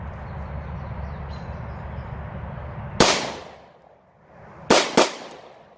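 A Taurus TH9C pistol fires three sharp, loud shots outdoors, one alone and then a quick pair about two seconds later, each with a short echo trailing off over a steady background hum.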